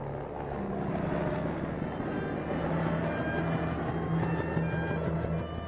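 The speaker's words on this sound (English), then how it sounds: "Army helicopters are speeding the emergency cases to the medical center." A steady low rotor drone from army helicopters passing, a continuous throbbing hum with a faint whine, moderately loud and unbroken.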